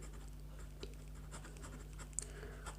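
Pen strokes on paper as the given values of a maths problem are written down, a soft close scratching in short bursts over a low steady hum.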